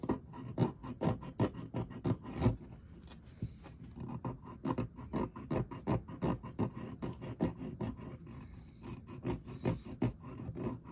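Scrubbing along the edge of a Shakespeare Beetzsel fishing reel with German silver parts, a close, rhythmic series of rasping, scratchy strokes that stays steady throughout.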